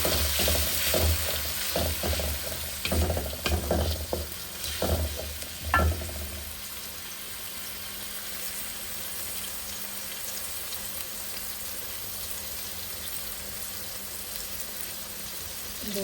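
Onion and garlic paste sautés in hot oil in a pan for a rohu fish and bottle gourd curry, with loud stirring scrapes and sizzle for the first several seconds, then a softer, steady sizzle continuing alone.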